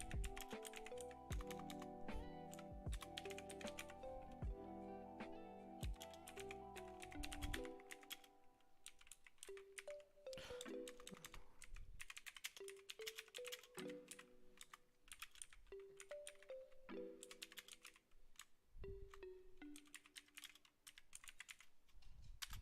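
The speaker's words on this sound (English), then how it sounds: "I'm a terribly slow typer" Keystrokes on a computer keyboard tapping in short irregular bursts, faint beneath loud music with sustained tonal chords throughout.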